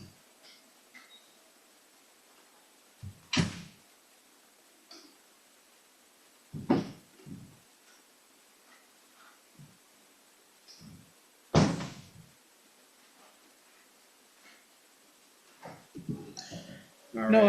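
Door and cupboard thumps in a quiet room, several separate sharp knocks and slams spaced seconds apart, with a soft shuffle and handling noise between them.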